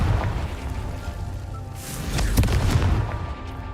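Fiery spell blast from the Confringo curse in the Hogwarts Legacy video game, a booming burst with crackling impact that swells midway through amid ongoing in-game rumble.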